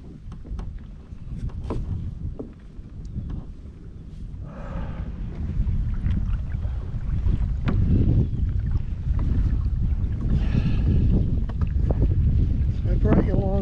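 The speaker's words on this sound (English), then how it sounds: "So I brought you along for the first ride in a new kayak." A new Hobie kayak out on the water for its first ride, with steady wind buffeting the microphone and soft water movement throughout, growing a little louder in the second half; no speech over it.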